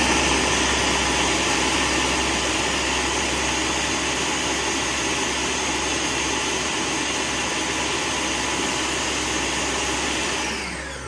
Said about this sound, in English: We're going to actually puree that for just a sec.